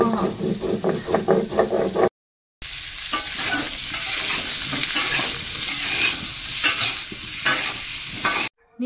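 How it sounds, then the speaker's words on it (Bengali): Chicken stirred in a wok-style kadai, catching and sticking as it fries down, makes loud sizzling with scraping stir strokes. A short silent break falls partway through, then the frying and stirring go on steadily up close. "তোমাদের দাদা চিকেনটা বসিয়ে দিয়েছে, বললো আমাকে একটু নাড়াচাড়া দিতে, যেহেতু কড়াইতে লেগে যাচ্ছে একদম কষা কষা"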